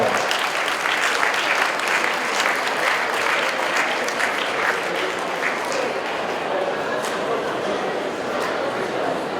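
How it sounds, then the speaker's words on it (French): An audience at a festival of ideas gives sustained, loud applause, a dense and steady roar of clapping from a large crowd that continues without pause throughout. "Merci de l'applaudir"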